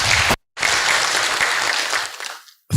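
Dense audience applause at a county investment roundtable in Nakuru, loud and sustained, cut off by a short silence, then resuming before fading out near the end.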